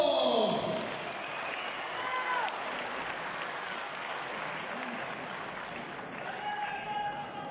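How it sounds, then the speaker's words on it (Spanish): Applause rises from the crowd at a political party congress in Bolivia, a broad wash of clapping heard at some distance, with voices and shouts mixed in throughout. "¡Fuerte los aplausos!"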